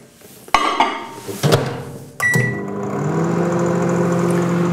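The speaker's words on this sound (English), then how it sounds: "So I'm just going to put that in the microwave." A microwave door clunks shut, buttons beep, and then the oven starts up with a steady low hum that continues to the end, melting butter for a chocolate tart.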